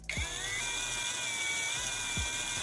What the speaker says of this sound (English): I need to drill a precise hole through the center of its head.